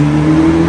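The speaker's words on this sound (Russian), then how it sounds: "турбина, которая раскручивается и звучит, облагораживает выхлоп" A Mercedes with a tuned turbo exhaust revs in a short burst, a loud, close engine drone with a strong steady low hum and no talking.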